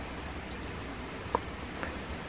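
A Yeslamp EVO adjustable LED desk lamp gives a single short, high electronic beep as its M button is pressed, followed by faint clicks in a quiet room.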